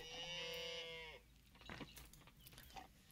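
A single long, loud cow moo from the farming video game Coral Island, lasting about a second, followed by quieter, softer animal and ambient sounds.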